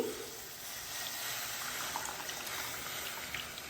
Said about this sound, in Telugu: ఇప్పుడు కొంచెమే చింతపండు గుజ్జుని పోసుకున్నామండి